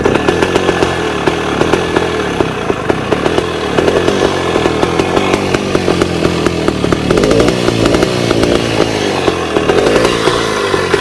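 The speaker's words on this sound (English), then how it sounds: "Here it is, 1961 Bultaco Lobito. You're going to hear what it sounds like running" A 1961 Bultaco Lobito motorcycle's small single-cylinder two-stroke engine runs loud and close, with a rapid buzzing crackle and revs rising and falling unevenly throughout, alone without talk.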